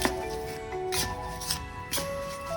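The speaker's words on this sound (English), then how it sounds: "Let's see if we can pull another card to see if I can get any more information." Oracle cards being shuffled and one drawn from the deck, giving a few soft papery riffles and slides at close range with no talking.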